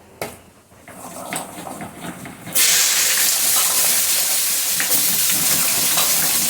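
Vegetable stalks dropped into very hot oil with tempered spices, a sudden loud steady sizzle that bursts in partway through and keeps hissing strongly to the end.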